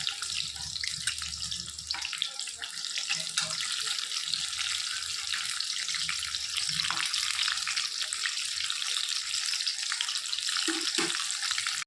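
Cabbage-filled puli pitha fry in hot oil with a continuous hiss and crackle, mixed with watery splashing and a few utensil knocks near the end, moderately loud and without speech.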